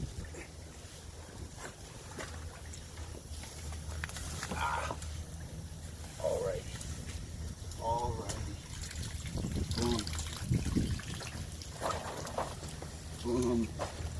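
Water splashes and trickles as a sturgeon is scooped from the last shallow water of a draining pond, with intermittent sloshes and a person's voice talking over the activity outdoors.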